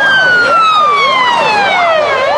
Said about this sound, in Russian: Каждую минуту сюда подъезжали новые кареты скорой помощи